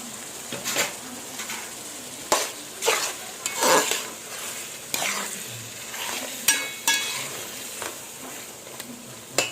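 Mutton curry simmering in a pan after a ground tomato and coconut paste goes in, with soft sizzling and bubbling, stirring scrapes and occasional utensil knocks against the pot, close and moderately loud with no voices.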